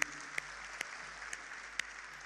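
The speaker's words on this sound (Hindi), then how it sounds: "जोरदार तालियां महिला शक्ति के लिए।" Faint, scattered handclaps from an audience at a live comedy show, a few sharper claps standing out at irregular intervals over a soft, distant wash of clapping.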